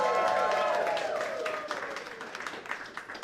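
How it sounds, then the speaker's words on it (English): Audience applause at a disability film challenge finalist announcement: a crowd claps and cheers loudly at first, then the clapping continues more loosely under a voice speaking. "How about a round of applause?"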